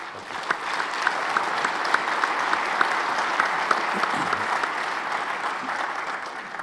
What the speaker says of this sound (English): could we give a big round of applause for all of our sponsors?